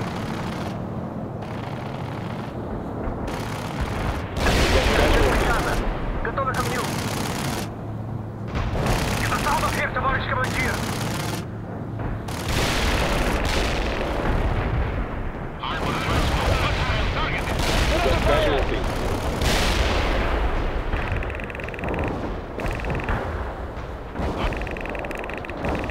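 Heavy artillery barrage in World in Conflict, a run of loud booming detonations and crackling gunfire rolling on for the whole stretch, with radio-style voices speaking over the battle noise.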